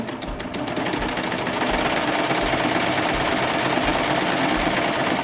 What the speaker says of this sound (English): Now when I get close to the bottom, I wanna serge 1 stitch off the edge